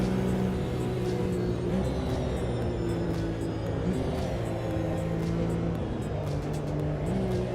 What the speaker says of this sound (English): Oh, that little McLaren pulls away so well.